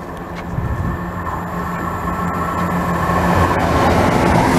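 A Class 168 passenger train passes fast at Denham station, a loud continuous rumble and rush of wheels on rail that builds steadily over a few seconds, close by, with no voices.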